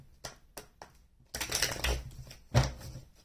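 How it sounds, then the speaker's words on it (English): Tarot cards are shuffled up close: a few short riffling bursts, then a longer rustling shuffle and a final snap, fairly quiet. "Let's get one more shuffle."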